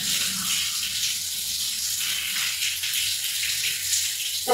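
Water runs steadily from a tap while dyed black hair is rinsed, a continuous hissing gush close by that carries on without pause, with no talking over it.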